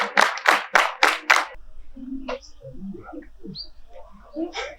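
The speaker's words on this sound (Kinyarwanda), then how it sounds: "Umukomera amashyi." A few seconds of brisk clapping for a student at a school, several people applauding together in quick bursts before it fades into scattered bird chirps and quiet murmurs.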